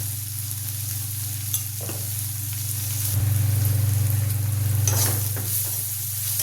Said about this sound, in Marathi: कांदा छान तांबून भाजायचा. कांद्यामध्ये मीठ घालायचं म्हणजे कांदा लवकर भाजतो.